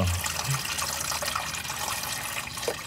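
Watery engine oil draining from a swamped Can-Am Defender 1000 utility vehicle, a steady splashing, trickling pour that runs continuously, fairly loud and close.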